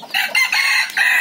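A wild-caught red junglefowl rooster crows loudly and close by, a harsh repeated call broken into several bursts over about a second.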